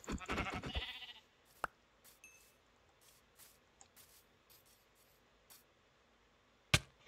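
Sheep bleating in the Minecraft video game, a short burst of clear bleats at the start followed by faint clicks and soft game sounds, then one sharp sound near the end.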